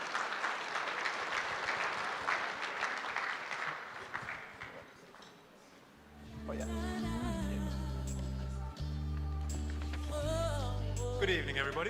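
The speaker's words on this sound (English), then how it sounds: "A round of applause for him, please." A gala audience applauds Floyd Garrett with loud, dense clapping for about five seconds, then it fades out and walk-on music with a beat takes over.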